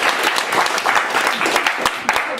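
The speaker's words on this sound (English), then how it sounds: "And now let's clap for Colin." A short burst of audience clapping for a writer at a literary reading, dense and fairly even throughout the couple of seconds.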